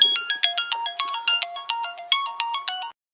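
A mobile phone ringtone signals an incoming call, a bright, repeating electronic melody of quick chiming notes in a steady rhythm, clear and close, stopping abruptly after about three seconds with no talk over it.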